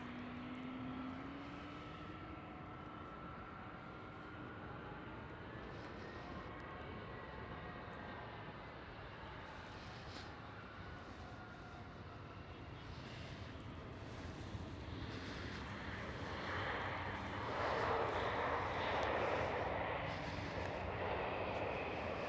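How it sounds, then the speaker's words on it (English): A German Airways Embraer E190 jet operating for KLM Cityhopper passes at Amsterdam Schiphol, its engines giving a steady broad roar with a whining tone that swells and grows louder toward the end. "It is a German Airways E190 flying for KLM Cityhopper."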